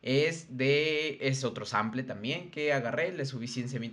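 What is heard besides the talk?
No everyday noise stands out behind the speech.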